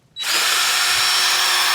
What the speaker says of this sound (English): Start drilling.